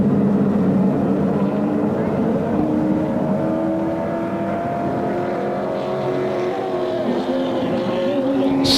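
Late model race cars rolling slowly around an oval track into turns three and four, a steady layered engine drone with overlapping tones, loud and continuous, with an announcer talking over it.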